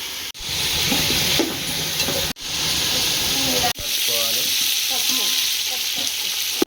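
Chicken for Hyderabadi biryani frying in a pan, giving a loud steady sizzle and hiss broken by a few brief cuts, with occasional stirring scrapes and no talk.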